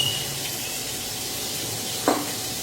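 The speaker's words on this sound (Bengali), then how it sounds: "এটাকে উল্টে পাল্টে আমি ভেজে নিচ্ছি" Pointed gourd (potol) frying in a pan, a steady soft sizzle with one brief stirring clatter near the end, no voice.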